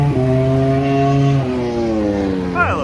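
Motorcycles and cars run on the Buttonwillow Raceway track, with steady loud engine drones that shift pitch as they rev and pass, and a faster rising whine near the end, no talk over them.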